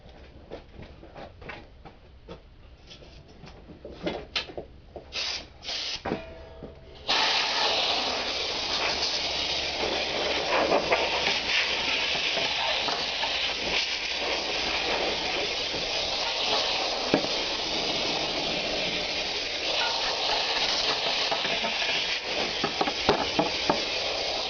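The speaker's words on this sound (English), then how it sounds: "I'm going to give this a little bit of a blow with some air" A sustained, loud hiss of compressed air blowing over an aluminum solar panel frame starts abruptly after several short bursts and continues steadily, with occasional small clatters on top.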